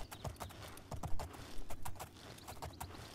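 Horse hooves clip-clop at a steady trot in the video game Oblivion, a quiet, regular run of distinct thuds without any talk.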